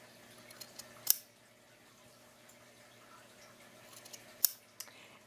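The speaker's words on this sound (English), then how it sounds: "we're going to clip the corners" Scissors snip the corners of sewn fabric with two crisp, sharp cuts a few seconds apart, close and clear over a quiet background.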